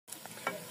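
Soybeans fry in hot oil, giving a brief, close sizzle with a few crackling pops.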